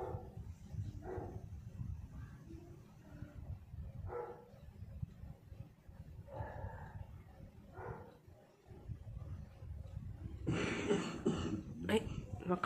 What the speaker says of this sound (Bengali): কাশির আওয়াজটা কেউ শুনছে